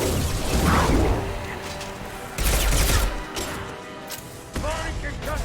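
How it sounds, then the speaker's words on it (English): A concussive shot is fired in a modded Mass Effect game, with loud percussive blasts and gunfire bursts coming in separate surges over busy battle noise. "Firing concussive shot."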